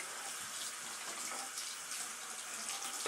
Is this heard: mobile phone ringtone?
no